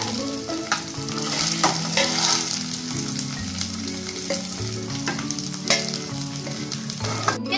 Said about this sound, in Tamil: இந்த சிக்கன் நல்லா ஃப்ரை ஆயிருக்கு, உள்ளேயும் நல்லா குக் ஆயிருக்கு.